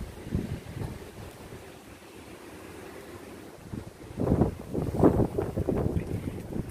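Gusty wind on a back porch buffets the microphone in rumbling bursts, growing stronger and louder toward the end.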